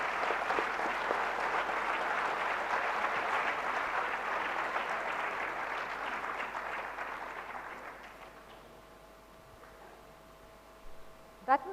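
Sustained audience applause in an auditorium at an HR conclave panel at IIT Kharagpur, a dense wash of clapping that fades out after about eight seconds, leaving a quiet room and a few faint knocks.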